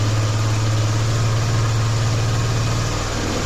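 Suzuki Access 125 scooter engine idling steadily while its carburetor is tuned, a loud, close, continuous low hum with no talk over it.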